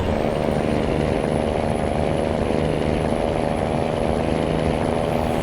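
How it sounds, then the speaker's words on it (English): A 389 truck engine in American Truck Simulator drones steadily and loudly throughout as a continuous, unchanging mechanical roar, with no talking. "I could sit here and listen to that engine all damn day long."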